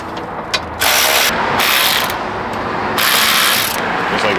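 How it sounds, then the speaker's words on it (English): A ratchet clicks in short bursts while tightening the condenser bolts on a Honda Accord during a radiator install. The rapid pawl clatter is loud and close, with brief pauses between strokes. "So here are those two screws you have to tighten, 1 and 2."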